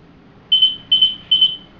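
Wireless OPD patient call system sounding a doctor's call: three short, bright electronic beeps at an even pace, each a quick double pulse, clear over a quiet room.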